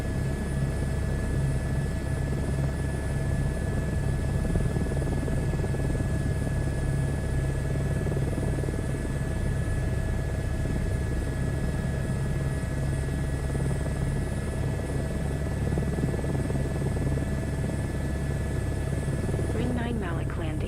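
Helicopter flying in a VR flight simulator game, a steady loud rotor and engine drone holding level throughout, with a brief faint rattle near the end and no talking.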